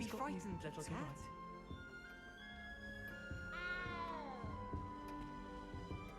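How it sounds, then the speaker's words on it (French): A kitten in the Hogwarts Legacy video game gives several high, drawn-out meows, one long rising and falling cry in the middle, heard over soft game music while a person talks. "Oh, bébé chat!"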